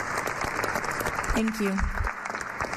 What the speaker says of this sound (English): The clapping wakes him up.